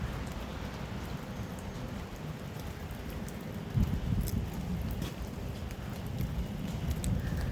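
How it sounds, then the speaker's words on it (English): Steady rain falls outdoors on a London street beside a historic three-storey house, a dense continuous hiss of drops on hard surfaces with no talk over it. "And it's quite rainy."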